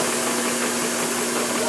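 Small steam engine at a steam-up gathering, running only on its blower, gives a steady, loud broadband hiss with a constant hum beneath and no breaks.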